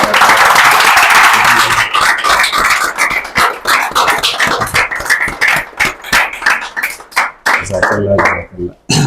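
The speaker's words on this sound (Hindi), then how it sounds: "हमजा सर के लिए तालियां हो जाए" An audience at an institute diploma ceremony claps for a teacher, close and loud at first, then thinning into scattered, uneven handclaps that fade out near the end.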